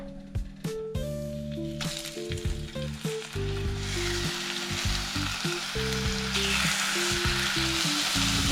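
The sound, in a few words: fish frying in a pan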